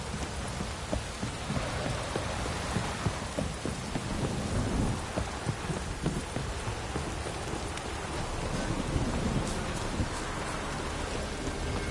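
Heavy rain hisses steadily while thunder rolls and rumbles repeatedly in the video game The Witcher 3, a dense continuous downpour with no voices.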